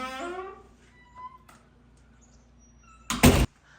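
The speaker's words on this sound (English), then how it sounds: "Creaky door." A restroom door at a riverside campground creaks with a short, rising-and-falling squeal, then, after a quiet pause, bangs shut with a loud, close thump.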